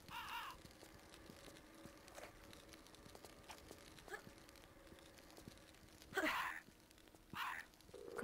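A crow caws in Tomb Raider III's Scottish highlands level: three separate harsh calls, one at the start and two close together near the end, over a quiet, sparse backdrop of faint clicks and ambience.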